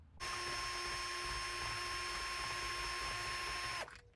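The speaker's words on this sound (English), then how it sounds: "So I'm going to drill that out just to make sure it's wide enough" A power drill widens a hole for a keyless RV door lock, giving one loud, continuous, even whir that lasts nearly four seconds before it stops sharply. It is close to the listener and there is no speech.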